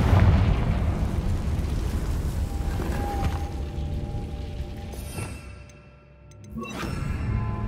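Confringo fire spell in Hogwarts Legacy bursting into a loud booming explosion that rumbles and fades, followed by a softer second burst near the end.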